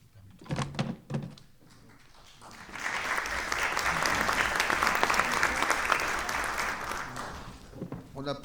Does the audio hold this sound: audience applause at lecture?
yes